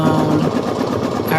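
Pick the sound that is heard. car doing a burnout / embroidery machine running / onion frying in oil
embroidery machine running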